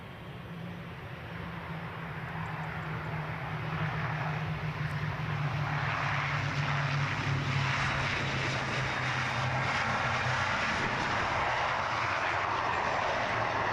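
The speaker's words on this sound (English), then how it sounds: "Here's our inbound ATR from Belfast" ATR turboprop airliner arriving at Edinburgh airport from Belfast, a steady propeller drone with a low hum that swells gradually as it approaches, alone and moderately loud.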